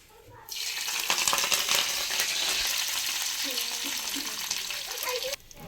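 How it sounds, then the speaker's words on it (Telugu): Telangana-style tempering spices drop into hot oil and erupt into a loud, close, crackling sizzle that starts abruptly, holds for about five seconds, then cuts off. "తాలింపు కావాల్సినవి చేసేస్తాను"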